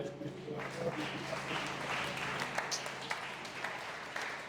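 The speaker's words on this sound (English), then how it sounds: "Are you clapping for me?" Scattered audience clapping at a finance talk, moderately quiet and uneven, with some sharper individual claps over a low background hum.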